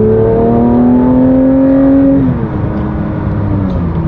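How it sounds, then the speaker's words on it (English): A Porsche 911 GT3 engine in manual mode revs up with a loud, close, rising tone, then drops back to a lower steady drone, with no talk. "Now I'm going to put it in manual mode just so we can hear the engine a little bit."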